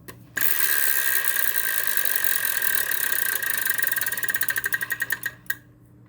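A Wheel of Fortune wheel spun on the game show stage, a steady loud whir of rapid clicking pegs that slows into distinct ticks before coming to rest, then a brief tone.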